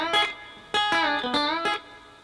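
An electric guitar plays a short country rock lick with string bends, three or four bright picked notes ringing clearly and alone.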